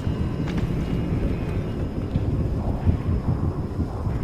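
Stormy weather in the video game Far Cry 2, a steady low rumble of wind and distant thunder filling the scene at fairly strong level with no speech.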